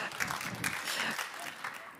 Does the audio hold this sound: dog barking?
no